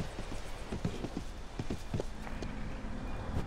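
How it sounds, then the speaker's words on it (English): Horse hooves clip-clopping at a steady walking rhythm in the video game Rift, close and clear over a faint game ambience. "Now I take out my horse."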